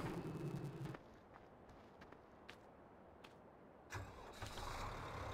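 A John Deere-style 6130 tractor engine in Farming Simulator 15 cranks and catches near the end, preceded by a quieter stretch; the start is loud and close, followed by a rising idle.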